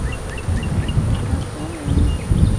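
Honeybees in an active, crowded hive make a dense, droning buzz close by, with single bees whining past now and then, and a voice is faintly present underneath.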